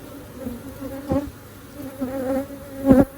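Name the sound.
bees buzzing during beehive inspection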